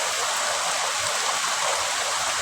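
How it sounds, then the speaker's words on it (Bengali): Heavy rain pours down outside a window in a steady, dense wash of hiss and patter with no break, loud and close, and no voices over it. "কি পরিমাণে বৃষ্টি নামছে আমাদের এদিকে"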